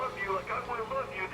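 A restored 1946 Packard car radio plays a broadcast voice with noticeable distortion, steady and close for a brief moment.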